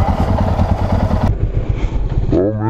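A motorcycle fitted with Barkbuster hand guards crashes, its engine rumbling loudly before an abrupt change to clattering and scraping as the bike goes down, with a brief voiced exclamation at the very end.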